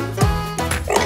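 A dog barks a couple of times in quick succession, close and fairly loud, with a short yip-like sound trailing after.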